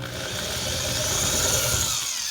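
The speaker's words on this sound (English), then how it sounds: "That was just the weight of the drill." A power drill whirs steadily for a couple of seconds, a sustained motor whine that cuts off at the end.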